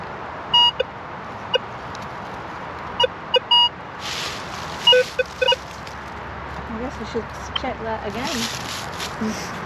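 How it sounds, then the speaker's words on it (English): A metal detector pinpointer chirps in short, high electronic beeps over coins in a dug hole in the woods, brief bursts scattered through the clip, with outdoor rustling and scraping between them. "It's still beeping, so maybe there's more than one coin down here."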